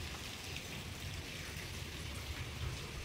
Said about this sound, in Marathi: खूपच पाऊस आहे. बघा इकडं आमच्या इकडचं पाऊस.